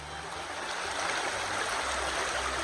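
Water rushes steadily through a gold sluice box set up outdoors, a continuous broadband wash with no break and no voices.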